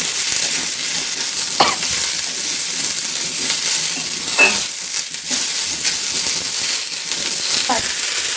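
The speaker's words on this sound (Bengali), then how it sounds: "তো ঝিঙে চিচিয়েটা দিয়ে আমি আরেকটু ভালোভাবে ভেজে নিচ্ছি।" Potato, carrot, snake gourd and ridge gourd frying in a pan for daliya khichuri give a steady, even sizzle, with a few sharp utensil clinks and scrapes from stirring.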